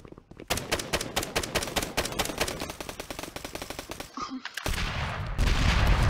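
Guns fired into the sky in the Roblox game Gun Testing: loud, rapid automatic bursts of gunfire rattle almost continuously, with a brief break before a denser, heavier stretch of shooting.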